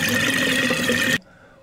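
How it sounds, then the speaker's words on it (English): Water falling steadily into a DIY sump for a 1300-gallon aquarium setup, a loud, close, continuous splashing wash that stops suddenly after about a second. "We have the sound of water falling."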